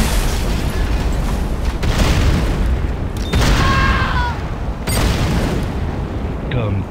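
A GDI Tiberium Refinery explodes in the video game Renegade, a heavy booming blast with dense rumbling low end and a sustained roar, broken by sharper bursts, while game voice announcements play over it.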